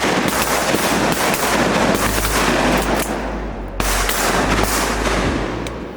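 Volley of shotgun fire during a duck hunt after the ice, with dense overlapping blasts filling six seconds, a brief dip near the middle before the shooting resumes, loud and close.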